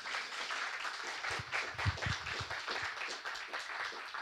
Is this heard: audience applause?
yes